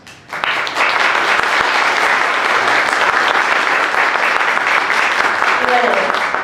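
Strong applause from an audience at the second Culture and Migration forum swells within the first half second and then holds as a dense, steady clatter of many clapping hands.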